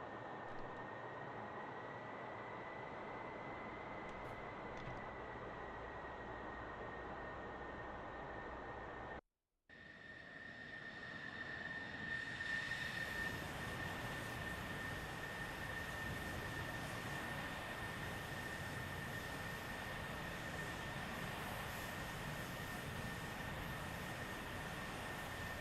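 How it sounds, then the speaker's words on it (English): The jet engines of an F-14B in DCS roar steadily through the takeoff roll at military power, without afterburner. The sound cuts out briefly, then swells into a broader, brighter rumble that holds to the end. "In the F-14B, takeoffs are made with military power only due to airspeed restrictions on the landing gear and risks for afterburner"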